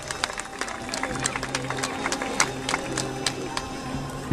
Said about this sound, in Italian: un altro applauso ai costumi di Arzana